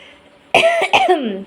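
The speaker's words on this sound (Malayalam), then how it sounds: "ഇപ്പോൾ ഒന്നാമത്തെ കാലാവസ്ഥേൻ്റെ ഇതുകൊണ്ട് ഭയങ്കരമായിട്ട് ചുമയാണ്" A person coughs twice in quick succession, close and loud, with a harsh throaty edge after a quiet start; the cough comes from a cold brought on by the weather.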